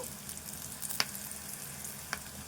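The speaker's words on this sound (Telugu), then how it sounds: "ఇది వేగాలి అల్లం వెల్లుల్లి పేస్ట్" Freshly pounded ginger-garlic paste fries quietly in a pan with onion and turmeric, a soft, even sizzle broken by two sharp little clicks.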